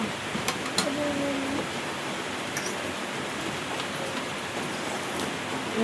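Steady rain pours down at midday, a dense continuous wash of falling water with a few brief faint sounds over it and no talk.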